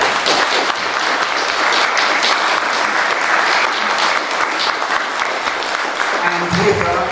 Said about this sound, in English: And let's start with a round of applause,